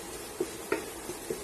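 Ginger and garlic sautéing in oil in a pan, a steady soft sizzle with a few light stirring clinks and scrapes at intervals.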